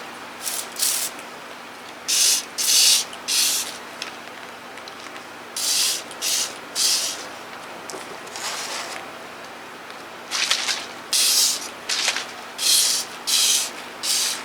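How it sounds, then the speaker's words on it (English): Fingers rub a treatment onto a curled-up plant leaf in short bursts of soft, close friction, about a dozen strokes with brief pauses between them and no talking. "I'm just rubbing it on with my fingers really well."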